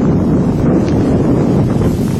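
Gusty wind blows at a street intersection near a house, a loud, steady rumbling rush of wind buffeting the microphone with no other sounds standing out.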